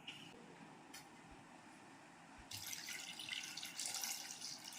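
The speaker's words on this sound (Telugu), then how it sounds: "ఇప్పుడు మళ్ళీ ఇందులో వాటర్ వేసుకుంటాను" Water poured from a tap or jug into a bowl of fresh turmeric roots in a home kitchen, a steady splashing rush that starts partway through and grows louder, following a quieter stretch of faint running water.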